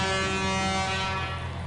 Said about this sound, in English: that's a proper air horn